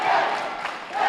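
An arena crowd at a live fight in Cape Town roars on its feet for fighter McCormick, a dense wash of cheering and shouting, loud and steady, with a commentator's voice over it.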